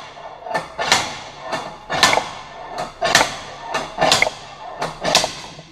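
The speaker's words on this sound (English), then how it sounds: "So let's try a slide hammer to get it out." A slide hammer pulls on a Peugeot 205 rear axle part clamped to an H-beam, giving five or six sharp metallic impacts in a steady rhythm, close and loud, with no talking.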